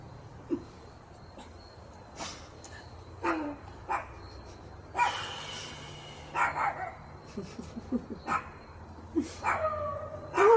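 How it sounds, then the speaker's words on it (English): A dog barks and yips in scattered bursts, with some whimpering in between, over a quiet background hum. "He's a frustrated dog, Don."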